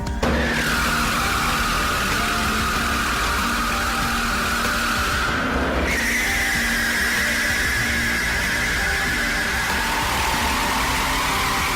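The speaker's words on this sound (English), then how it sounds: "Part of what you're paying for is the use of what Michelin calls its tire torture machine." A Bugatti Veyron tire roars continuously on Michelin's tire torture test machine, a loud steady drone with a sustained whine whose pitch shifts partway through, and no voices.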